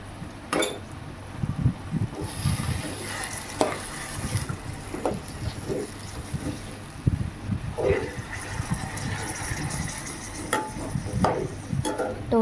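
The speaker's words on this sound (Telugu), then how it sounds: "ఇప్పుడు కలుపుకోవాలి మనం మొత్తం అందులో వేసాక" Boiled raw banana curry stirred in a cooking pot, a continuous wet squelching and scraping with irregular louder strokes and faint sizzling underneath, close up.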